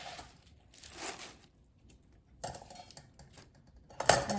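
A pound of washed baby spinach tumbles into an Instant Pot in a few rustling, crinkly bursts separated by quiet gaps, ending with a sharper clatter.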